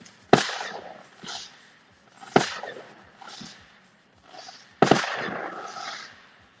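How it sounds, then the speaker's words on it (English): Three sharp distant firework bursts, each a crack followed by a rolling, crackling decay, spaced about two seconds apart with fainter pops between them. "Fireworks are so much prettier than they were back then."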